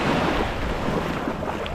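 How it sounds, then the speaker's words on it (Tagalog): Sea waves wash at Blue Lagoon beach in Pagudpud, a loud, continuous surf roar mixed with heavy wind buffeting the microphone. "Ganda ng dagat dito."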